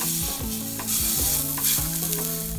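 Pork searing in a hot pan at medium-high heat, a steady loud sizzle with crackling spatter and scraping stirring throughout, close up and without talking.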